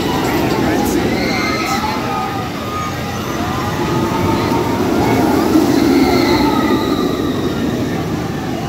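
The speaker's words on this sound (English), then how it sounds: "that was a great ride of Banshee in the back row" Loud, steady roar of the Banshee inverted steel roller coaster at Kings Island racing along its track, with rumbling wheels and rising squeals filling the whole ride from the back row, with faint voices underneath.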